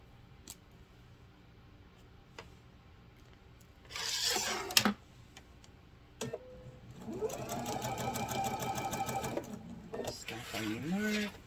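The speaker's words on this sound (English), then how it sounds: "you're going to sew all the way to the edge" A sewing machine stitches fabric for a grocery bag in short bursts, including one sustained run of rapid mechanical whirring. Between the bursts come clicks, fabric rustling and pauses, and brief talk is heard.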